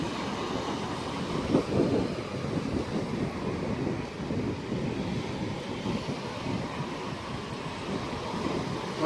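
Never-ending ocean waves break on the shore below a seaside wedding ceremony, a steady low rumbling wash with a slightly stronger surge early on, heard alone without voices.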